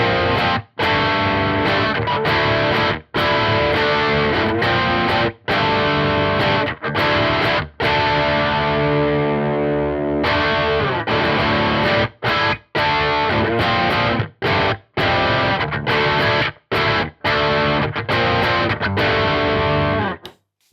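A crunchy, overdriven electric guitar on the bridge pickup plays strummed chords and riffs through a Victory Super Jack V130 amp's crunch channel, loud and continuous with brief choppy pauses between phrases.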